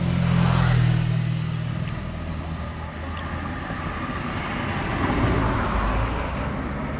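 A Yamaha R15 version 2 motorcycle rides along a central highway, its engine rumbling loudest at the start as it passes close, then settling into a steady roar of road and wind noise.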